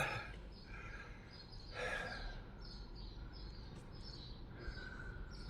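Birds chirp outdoors in a light, scattered twittering of short repeated calls over a soft steady background hiss, moderately distant and fairly faint.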